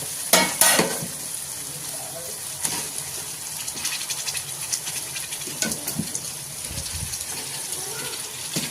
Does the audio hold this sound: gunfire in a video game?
no